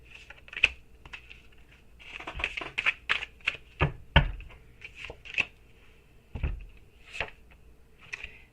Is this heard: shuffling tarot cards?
yes